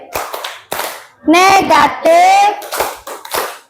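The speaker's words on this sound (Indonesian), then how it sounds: "Ya, tepuk matematika." Classroom math clapping game led by a teacher: short bursts of children's hand claps come in uneven groups, close and fairly loud, with a voice and an adult calling out in between.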